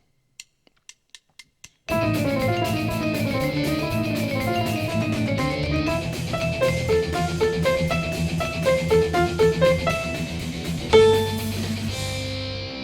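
"Flight of the Bumblebee" is played as a full-speed backing track. A few soft count-in clicks lead into fast, rapidly running chromatic melody notes over a driving accompaniment, loud and continuous until it ends in a short final chord.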